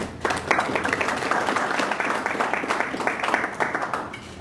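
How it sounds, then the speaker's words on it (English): An audience at a mobile-marketing talk applauds to welcome a speaker: dense, sustained clapping from a room of people, loud and close, steady for several seconds with no speech over it. "let's give him a big round of applause to welcome him"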